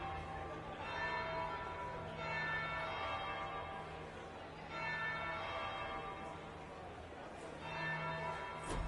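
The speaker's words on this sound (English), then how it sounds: "That would be the second bell." Church bells ringing in Dragon Age: Inquisition, resonant tolls repeating at steady intervals over a low ambient hum, fairly distant and moderately loud.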